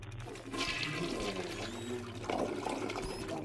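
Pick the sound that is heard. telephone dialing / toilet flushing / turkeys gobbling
toilet flushing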